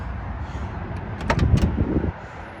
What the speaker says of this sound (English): Doors open and close nice.